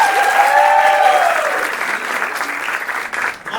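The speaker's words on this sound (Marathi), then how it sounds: "माझ्यासाठी एवढ्याच टाळ्या पाहिजे" Audience applause at a Marathi talent show, a dense burst of clapping that swells loudly at first and then thins slightly while continuing steadily to the end, with faint crowd voices mixed in.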